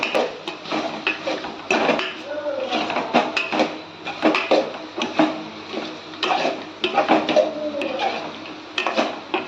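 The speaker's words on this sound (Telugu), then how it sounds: "అల్లం వెల్లుల్లి పేస్ట్, కారం ఇవన్నీ వేసుకున్నాక ఒకసారి బాగా కలపాలి." Chicken curry is stirred in a pot after ginger garlic paste and chilli powder go in. A spoon clanks and scrapes in uneven bursts, loud and close, with no voices.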